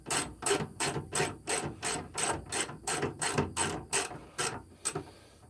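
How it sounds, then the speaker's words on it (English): A ratchet wrench clicks in a steady run of about a dozen rapid bursts while working on a van, each stroke a close, crisp metallic rasp with brief pauses between. "This wrench works better."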